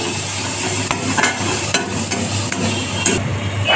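Chopped onion, tomato, crushed ginger, crushed garlic and grated ginger frying together in a wok with black cumin, a steady loud sizzle with repeated scraping stirs of a utensil, no talking.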